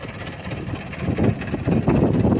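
A low, steady Mahindra 475 DI tractor engine (2004 model) idles on, growing slightly louder and rougher toward the end, with no voices.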